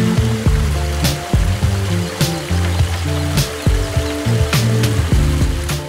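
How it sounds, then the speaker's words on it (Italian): A forest stream on the Anello dell'Acquerino trail near Pistoia, Tuscany, gurgles and splashes close by, with uneven bubbling pulses and sharp drips over a constant rushing wash. "In questo momento del percorso ci sta accompagnando un bellissimo rumore d'acqua."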